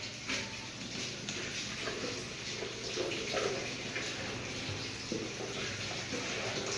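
Hot water running steadily from a tap for disinfecting, a continuous close splashing hiss with small shifts in flow.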